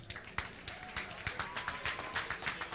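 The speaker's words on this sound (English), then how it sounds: "let's give Tom a big round of applause" Scattered audience clapping at a Golden Gloves boxing event in a mall, a quick uneven patter of hands at moderate distance, fairly quiet, with a faint tone running beneath.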